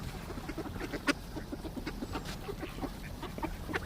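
Ducks and a goose call by a river, with repeated nearby quacks and honking calls over a steady outdoor background.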